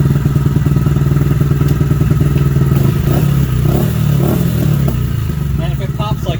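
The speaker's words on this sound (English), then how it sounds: "if it pops like that, that also usually means the air mixture is a little bit off" A Honda Grom 125 motorcycle idles close by with a rapid, lumpy thumping beat and irregular pops from an off air mixture, steady and loud throughout, with faint voice-like sounds near the end.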